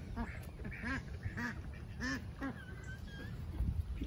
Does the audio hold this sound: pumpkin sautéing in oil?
no